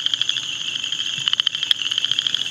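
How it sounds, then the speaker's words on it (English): A southern chorus frog calls nearby in a rapid, steady train of high, raspy pulses, repeating without pause against quiet background night sounds. "Southern chorus frog. That is right there."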